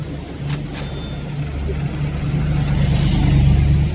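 A big Hummer drives past on a Zurich street, its low engine rumble swelling steadily louder and closer over a few seconds, with faint traffic noise behind.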